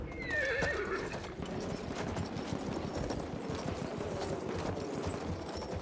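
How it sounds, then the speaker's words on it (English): A horse in Battlefield 1 neighs shrilly at the start, then gallops with rapid rhythmic hoofbeats under steady battlefield rumble and distant gunfire. "Yes, I got a horsey!"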